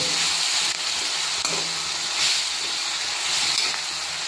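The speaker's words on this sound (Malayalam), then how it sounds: "ഇനി നമ്മൾ ഈ പുളി വെച്ചിരിക്കുന്ന പുളിയുടെ ഇതെല്ലാം കൂടി ഒന്നുകൂടി മിക്സ് ചെയ്യാതെ നന്നായിട്ട് മിക്സ് ചെയ്യുക" Tamarind being stirred into an onion chutney in a hot pan, with a continuous hissing sizzle and soft scraping swirls of the spoon, fairly loud and steady throughout.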